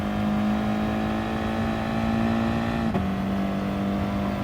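An Audi TT Gr4 race car in Gran Turismo Sport accelerates hard, its engine a steady, loud, close drone that climbs in pitch, then briefly drops at a gear change and keeps pulling, with no voices.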